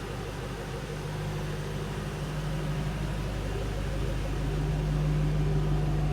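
A 2007 Shelby GT500 Mustang in grabber orange idles with a steady, deep low rumble from the rear, continuous and close throughout with no talking.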